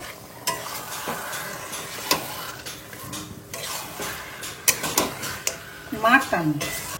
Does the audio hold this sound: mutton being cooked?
yes